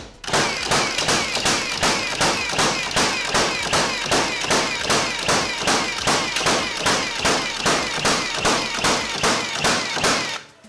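Milwaukee 21 degree framing nailer firing nails in rapid succession, about three shots per second, a loud close train of sharp evenly spaced bangs running without pause for the whole stretch.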